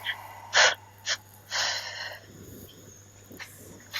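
Forceful breaths blown out during a guided breathing exercise, with three sharp, loud puffs close to the mic, the last one longer, followed by softer breathing and quiet room tone.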